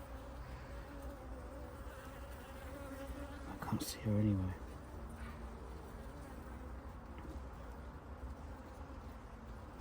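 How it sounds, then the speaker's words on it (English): Buckfast nurse bees inside a honey bee hive give off a steady, quiet, low buzzing drone, with a person speaking briefly over it. "There's loads of nurse bees in here,"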